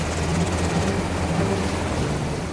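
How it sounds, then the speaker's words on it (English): A helicopter flies a short hop over Baghdad, carrying passengers to an Iraqi army base in the Adamiyah district, its steady loud rotor and engine drone filling the cabin without a break. "we're taken by helicopter because the streets aren't safe"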